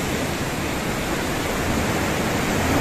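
Ocean waves off small islands in East Java, a continuous broadband wash of surf, steady and fairly loud with no voices.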